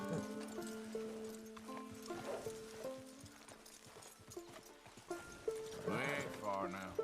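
Horse hooves clip-clopping at a slow walk up a hill in the Red Dead Redemption 2 video game, steady close hoofbeats over an in-game music bed, with a brief whinny near the end.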